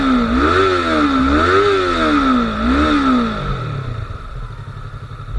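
A Yamaha R3 parallel-twin motorcycle engine revs up and down in three rising and falling sweeps, loud and close, then settles into a lower rumbling idle.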